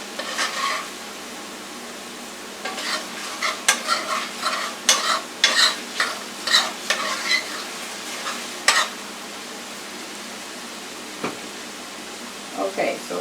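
Butter melting in a pan before egg noodles and mixed vegetables go in, with a soft continuous sizzle under a run of sharp utensil scrapes and clinks from stirring, busier in the middle, then sparse taps.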